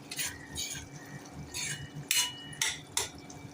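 Mushrooms being stir-fried with kasuri methi in a pan, a spatula scraping and clinking against the metal in several sharp, rhythmic strokes over a soft background.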